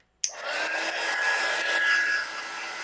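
A heat gun switches on with a sharp click and then blows a steady, loud whooshing hiss with a faint whine, running evenly for a few seconds.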